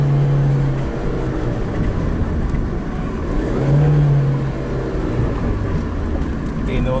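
Engine of a 2012 Nissan Versa with throttle and engine-temperature faults, held at high revs while driving, making a loud sustained whir and drone heard from inside the car, with someone talking over it.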